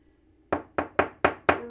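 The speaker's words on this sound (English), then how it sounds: "It'll splay as you hammer." A chasing hammer strikes wire five times in a steady rhythm, each blow a crisp, close metallic tap with a brief ringing decay, heard on its own while splaying the wire end for a ring.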